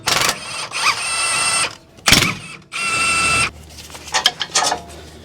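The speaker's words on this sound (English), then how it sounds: "I'm going to use this 17mm socket to take out the two caliper bolts." A ratchet fitted with a 17mm socket loosens the front brake caliper bolts on a 2011 Toyota Tundra, heard as several loud, close bursts of rapid mechanical clicking separated by short pauses.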